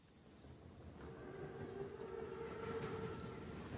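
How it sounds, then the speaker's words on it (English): An armored Panzerzug train rumbles in a World War II shooter game scene, a low, steady, faint rolling drone that swells slightly over a few seconds, with a thin whine above it. "Train's right on time. Biggest train I've ever seen."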